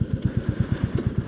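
Royal Enfield Classic 350 motorcycle engine, 2024 model, thumping at a steady idle with regular low pulses about ten times a second, close and fairly loud, with no one talking.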